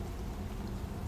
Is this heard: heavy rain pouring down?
yes